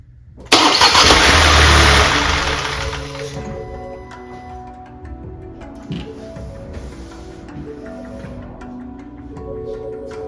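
A 2021 Ford Escape with a newly installed starter cranks and fires up, opening with a loud, brief roar that settles into a steady, quieter idle with faint mechanical rattles.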